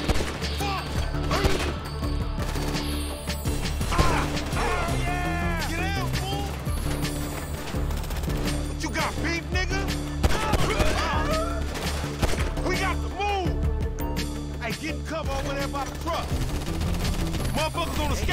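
Gunfight in Grand Theft Auto 5 on PS5, with dense bursts of gunfire and crashing impacts running continuously over a steady music bed, loud throughout, mixed with game voices.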